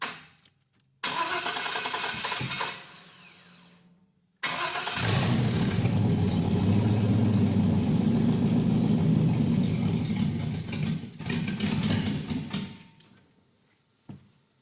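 A car engine starts, briefly sputters out, then restarts and runs unevenly, not holding idle, for several seconds before dying away; loud and close, no voices.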